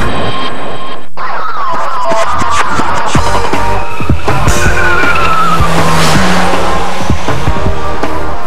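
An Infiniti G35 brakes hard from 70 mph on anti-lock discs, its tires squealing and skidding loudly for several seconds as the car slows under heavy rumbling road noise.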